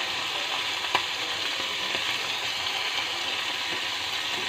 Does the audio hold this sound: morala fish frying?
yes